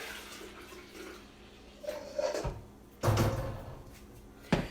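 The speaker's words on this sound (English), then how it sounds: "So now you're pouring the beautiful almond milk into the blender." Freshly made homemade almond milk is poured into a blender, a liquid splashing and gurgling in bursts, with knocks and clatter between the pours.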